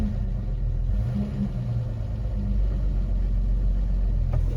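A used car bought unseen engages the wrong gear while pulling away, giving a steady close engine rumble and drone that holds throughout at an even level, with no voices.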